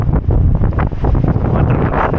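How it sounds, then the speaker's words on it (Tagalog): Strong wind roars and buffets the microphone in a snowy, freezing outdoor setting near minus 22 degrees, a loud, steady broadband rush with gusty swells throughout. "Pero malakas ang hangin"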